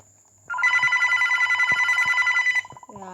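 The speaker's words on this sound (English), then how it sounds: "Guys, the phone is ringing." A telephone bell rings loudly in one sustained, rapidly pulsing burst of about two seconds, then stops, with soft background noise before and a brief voice-like sound after.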